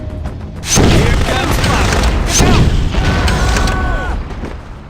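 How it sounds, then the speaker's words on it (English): Muffled booms and bursts from a micro missile launcher popping out of a briefcase in No One Lives Forever 2, several loud blasts in quick succession mixed with game sound effects. "the micro missile launcher pops out of a briefcase. It's kind of like the briefcase gun you had in stuff like Perfect Dark, but it shoots missiles"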